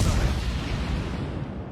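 Warship turret guns firing in World of Warships: Legends, a heavy, sustained rumble of naval gunfire that stays loud and dense across the whole moment, with no distinct separate shots.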